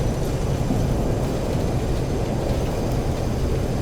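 Thrust reversers on a Boeing 737-200 roar during a landing in a flight simulator game, a loud, steady broadband rush of engine noise held throughout with no talk.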